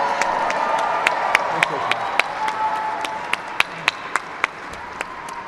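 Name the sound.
audience applause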